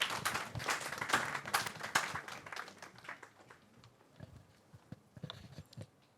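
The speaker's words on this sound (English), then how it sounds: "A round of applause as we welcome our chairman." An audience at a conference on a single African currency applauds to welcome the chairman, with clapping that starts dense and fairly loud and then thins out and fades to scattered claps, heard at some distance in a large room.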